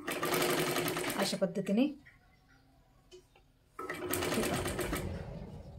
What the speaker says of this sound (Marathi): आपल्याला हळूवारमध्ये एकदम शिलाई मारून घ्यायची आहे पूर्ण गळ्याला